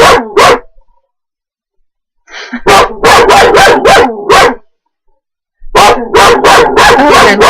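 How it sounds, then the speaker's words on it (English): A dog on a property barks loudly and close in quick bursts of several sharp barks, separated by silent pauses, with a faint whimpering sound in one gap. "my dog is not going to stop barking until they're gone"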